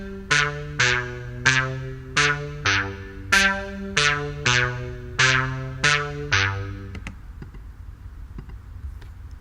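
Chorus bass part from a student song project, playing a run of plucked, tonal notes in an even rhythm, each note attacking and fading before the next, then trailing off into quiet hiss.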